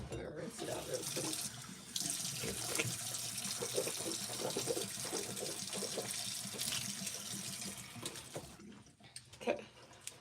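Bathroom tap running steadily into a sink while someone rinses their mouth, a continuous hissing water flow with small splashes and gurgles, fairly quiet and close, breaking off near the end.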